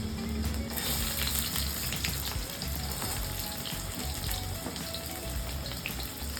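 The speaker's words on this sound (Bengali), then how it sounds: "তেলটা গরম হয়ে গেছে এর মধ্যে দিয়ে দেবো রসুন কুচি" Chopped garlic and onion frying in hot oil in a kadai give a continuous, moderately close crackling sizzle, dense and even throughout with small spitting pops.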